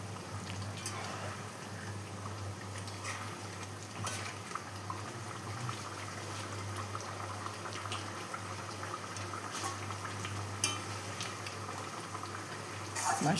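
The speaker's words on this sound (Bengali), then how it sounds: "মাছটা একটু সেদ্ধ হবে।" Chitol fish curry with ghee and coriander leaves simmers and bubbles in a pot, a faint, continuous boiling hiss with small pops that holds steady throughout.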